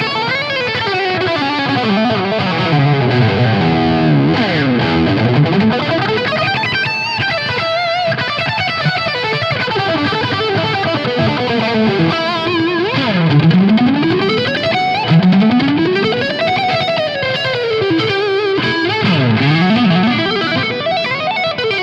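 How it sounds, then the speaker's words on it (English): High-gain electric guitar shredding through a Two Notes Genome amp and effects preset: fast, distorted runs sweep up and down the neck with chorus-like shimmer, loud and continuous for over twenty seconds. "if I give myself more gain, check out this, it becomes a shred machine"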